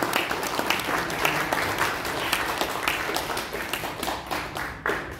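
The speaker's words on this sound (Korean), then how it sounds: "박수 부탁드리겠습니다" An indoor audience at a breakfast lecture claps steadily for several seconds, a dense patter of applause that thins slightly toward the end.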